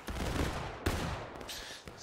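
Musket volleys in the Civil War game War of Rights: a ragged, crackling burst of massed rifle fire opens, then a second loud volley follows under a second later, with a rolling echo between the shots.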